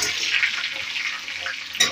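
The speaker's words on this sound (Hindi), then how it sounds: "अब मैंने जो खड़े मसाले लिए, अब मैं उसको डाल दूंगी।" Whole spices crackle and sizzle in hot oil in a pan while cooking a pea and mushroom curry, a steady close hiss running throughout with a brief louder burst near the end.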